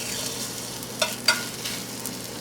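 Lamb chops sear in a hot pan with a soft, steady sizzle, broken by a couple of brief sharp crackles and pops, heard up close with no talking.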